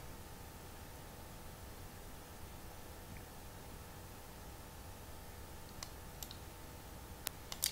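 Computer mouse clicks during a software installation, a few faint, sharp clicks near the end over a steady low hiss.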